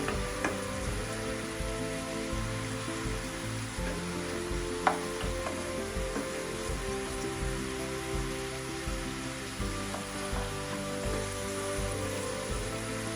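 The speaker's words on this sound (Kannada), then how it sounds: "ಹಾಗಾಗಿ ಸ್ವಲ್ಪ ಫ್ರೈ ಮಾಡ್ಕೊಳ್ತೀನಿ ಎಣ್ಣೆಯಲ್ಲಿ ಒಂದು 2 ನಿಮಿಷ ಹಾಗೆ" Mushrooms frying in oil in a pan for a masala gravy give a steady close-up sizzle and crackle throughout, with a few faint clicks of stirring.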